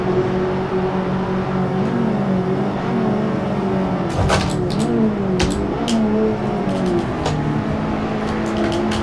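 Race car lapping in the video game Assetto Corsa, a continuous engine drone with shifting pitch as it accelerates and brakes, plus sharp clicks and thumps partway through, no talk over it.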